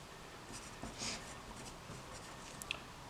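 Faint scratchy strokes of marker or chalk writing on a board during an algebra lesson, several short squeaks and scrapes in a quiet room with no talk.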